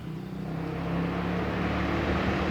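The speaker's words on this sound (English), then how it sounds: "No, that's a motorcycle." A motorcycle passes by outdoors, its engine noise swelling and holding as a steady broadband roar for a couple of seconds, with no one talking.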